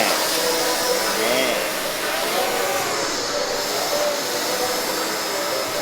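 Racing drone motors run during a test flight after a shell swap, giving a steady, loud, close whirring whine that holds unbroken for the whole stretch.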